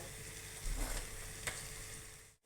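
A bread chilli sauce of tomato sauce, soy sauce and water sizzles steadily in a pan, close and even, with a brief stir partway through and no talking.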